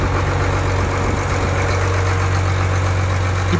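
A fishing boat engine runs in its engine room, a loud, steady droning rumble with a deep low hum and constant vibration throughout, no talk.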